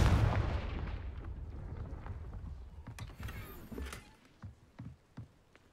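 Confringo fire spell cast in Hogwarts Legacy: a heavy blast opens loud and booming, then decays into a rumbling tail with scattered sharp cracks and thuds fading out.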